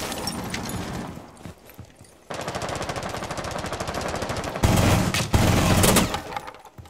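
Automatic weapon fire in the video game Rainbow Six, rapid sustained bursts with brief pauses, one louder burst toward the end, close and dense with no talk over it.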